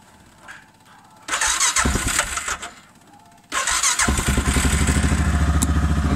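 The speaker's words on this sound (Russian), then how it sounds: "С первого раза заводится" An RM 650 snowmobile engine is started twice: the first attempt catches briefly and revs loudly before dying, then a second start fires and settles into a steady, loud running roar close by.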